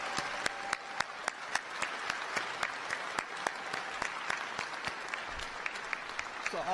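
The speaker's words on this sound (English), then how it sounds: "So will you give him a round of applause?" A rally crowd at an end gun violence event applauds steadily for several seconds, dense clapping with scattered sharper claps, fairly distant and fading slightly with no speech over it.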